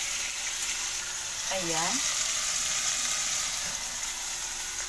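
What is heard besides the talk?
garlic frying with chicken in a pot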